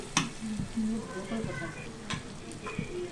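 Country chicken pieces drop into hot oil in a home curry pot, giving a crackling sizzle with scattered sharp spatters and stirring clinks, fairly close and steady throughout.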